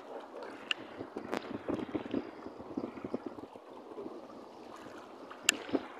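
Strong wind buffets the microphone on a small fishing boat at sea in rough weather, a steady low rush broken by faint knocks and splashes.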